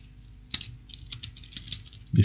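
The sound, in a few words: typing on a computer keyboard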